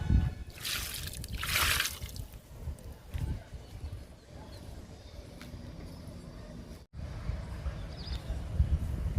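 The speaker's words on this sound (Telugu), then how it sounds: "సపోటా మొక్కకి వాటర్ ఇస్తున్నా." Water poured onto a sapota plant in a garden, with uneven splashing and trickling into soil, louder bursts early on then a softer steady flow.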